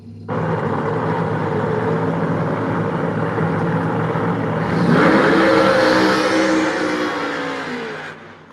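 A Funny Car drag racer, Carl's Killer Camaro, roars down the strip at Byron Dragway: a loud, sustained engine blast that surges midway, then fades as the car pulls away.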